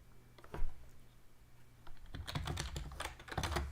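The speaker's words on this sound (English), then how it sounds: "I have to type this manually" Someone types on a computer keyboard, first a few scattered taps, then a steady run of quick clattering keystrokes, close and fairly quiet with no talk.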